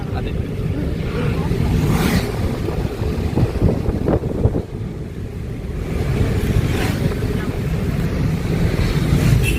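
Wind rushes and buffets against the microphone in a steady roar, with a brief dip midway, like air streaming past during a night ride in cold wind.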